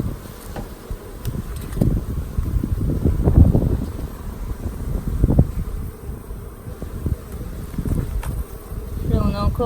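Honeybees buzz densely around an opened nucleus hive during a spring inspection, a close, continuous swarm hum with wind buffeting the microphone and a faint voice near the end.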